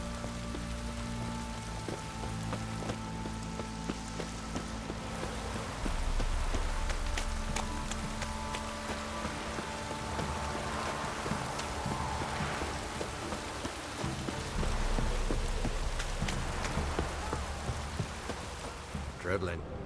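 Heavy rain in the video game The Witcher 3 pelts down without a break, a constant loud patter of drops on surfaces filling the whole stretch, swelling slightly at moments.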